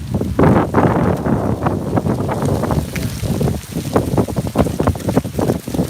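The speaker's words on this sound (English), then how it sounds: "Look at that wind." Wind gusts across a microphone outdoors on a November fall day, a loud, blustery rumble with fluctuating buffeting throughout.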